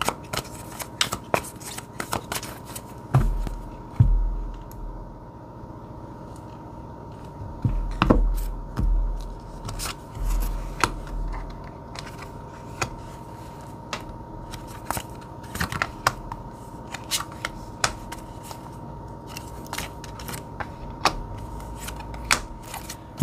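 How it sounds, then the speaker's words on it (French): Tarot cards are shuffled and handled up close in quick papery riffles and soft slaps, with scattered sharp taps and pauses between bursts. "Alors, je prends les cartes à l'endroit."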